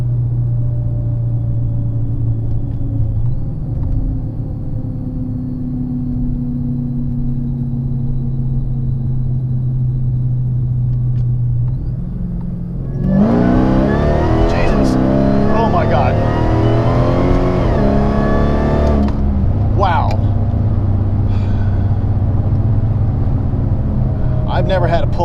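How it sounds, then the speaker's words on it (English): Dodge Challenger SRT8 V8 engine idling with a low rumble, then revving hard through a loud second gear pull for several seconds before settling back, with a voice talking faintly underneath. "I'll see if I can do a second gear pull."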